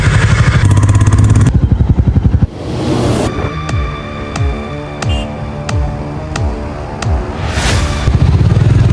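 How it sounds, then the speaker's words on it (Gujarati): A Royal Enfield motorcycle engine runs close by, loud and steady, with a rhythmic thumping beat and some mechanical clatter. No one speaks. "બાઇક છે"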